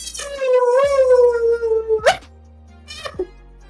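A man vocally imitates the bark of a dog from a film, giving one long, drawn-out, whining howl-like bark, then a sharp shorter yelp and a final brief bark, loud and close.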